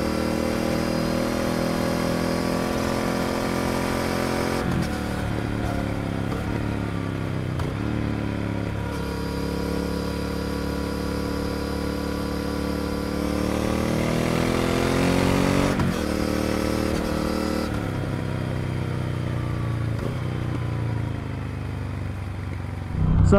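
A Triumph Speed Twin motorcycle rides a mountain road near Loveland Pass, its steady twin-cylinder engine droning loud and close, with a shift in pitch about halfway through as it eases off and builds speed again.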